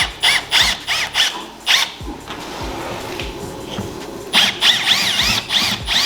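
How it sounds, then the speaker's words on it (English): A power drill drilling out rivet heads over fiberglass whines in several short bursts, each with a rising squeal, separated by brief pauses, then starts up again near the end. "You don't want to drill a bunch of holes into the fiberglass"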